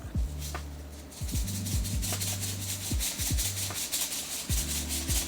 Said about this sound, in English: We're gonna salt this thing up with some coarse kosher salt.